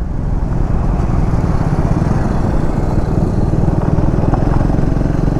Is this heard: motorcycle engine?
yes